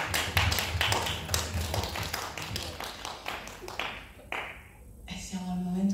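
Audience at the Premiazione Concorso Partenope 2019 award ceremony claps for an absent poetry winner, a moderate, steady patter of many hands that thins out and fades toward the end.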